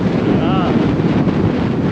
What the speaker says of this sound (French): j'ai vraiment le vent dans le nez. Enfin, sur le côté quand même.